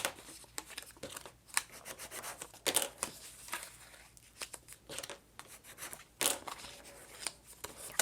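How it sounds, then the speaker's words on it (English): Bone folder scoring and burnishing paper for a Christmas treat box, a run of close, dry scraping and rubbing strokes in irregular bursts, with no talking. "I'm going to bring in my bone folder so we can get a good score mark on these"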